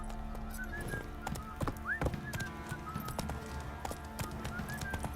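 Roach the horse trotting in The Witcher 3, hooves clip-clopping in a steady, fairly close rhythm over game ambience, with a brief whinny-like call partway through.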